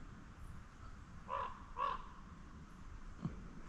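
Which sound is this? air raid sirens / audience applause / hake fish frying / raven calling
raven calling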